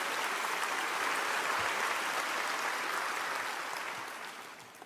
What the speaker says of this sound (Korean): 우리 하나님께 큰 박수 올려드립니다.